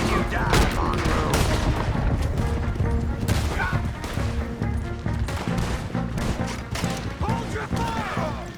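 A dense firefight in Red Dead Redemption 2: rapid overlapping rifle and pistol shots crackle continuously with crashes and impacts, loud and busy throughout, with shouted voices mixed in.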